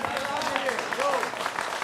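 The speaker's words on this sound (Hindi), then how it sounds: "I'm clapping for you, Shahzad" Short burst of clapping in a Hindi TV debate studio, a few hands patting under overlapping voices, with talk continuing throughout.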